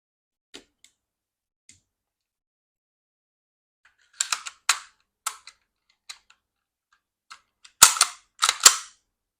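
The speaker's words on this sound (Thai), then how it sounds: "เดี๋ยวยิงเปล่าให้ดูสักเล็กน้อยนะครับ ให้ดูระบบกัน" A secondhand Double Bell G17 gas BB pistol is dry-fired: a few faint ticks at first, then a run of sharp snapping shots, ending in two loud, close reports, with no talking.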